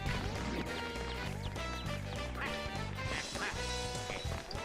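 A bird squawks and quacks repeatedly in the GameCube game WarioWorld, its calls sitting over loud, steady game music with a bouncy bass rhythm throughout.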